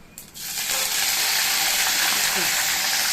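Curry leaves drop into hot oil with browned chana dal and urad dal for a tempering, setting off a loud, steady sizzle that swells after a brief clatter and stays bright and hissing throughout.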